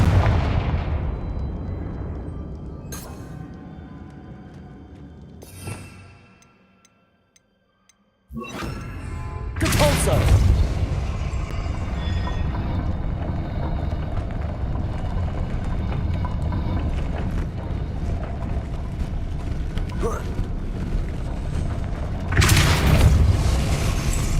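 Confringo spell explosions from the video game Hogwarts Legacy, a run of loud booming blasts with rumbling tails, a brief near-silent gap, then a sustained heavy roar and a final burst.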